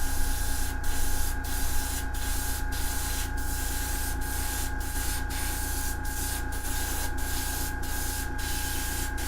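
An airbrush sprays primer and varnish onto tabletop miniatures, giving a steady, close hiss of air and paint mist with faint regular clicks throughout.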